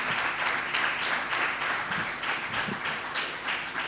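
Church congregation claps after a sermon, a lively, fairly close round of applause with rhythmic swells that holds steady throughout.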